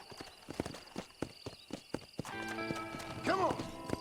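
Horse hooves trot in a steady clip-clop rhythm in the video game Red Dead Redemption, then the horse whinnies over a swelling music bed, with a voice briefly present.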